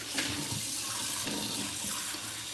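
Tap water runs steadily into a sink while a bowl for wild birds is rinsed, a continuous hissing splash with faint clinks of the bowl, close and fairly loud, with no voices.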